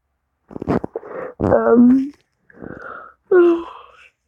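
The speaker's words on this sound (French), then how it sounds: "je viens de bailler" A long, drawn-out yawn with a rising then falling moaning voice, broken into a few breathy vocal bursts, close and fairly loud.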